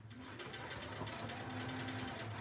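A sewing machine does free motion quilting on an elephant embroidery, with a soft, steady, rapid stitching chatter that runs continuously and fairly faint.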